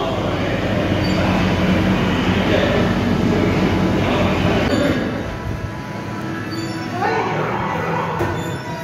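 An amusement park ride train runs past with a loud rumbling roll that fades slightly partway through, with people talking nearby.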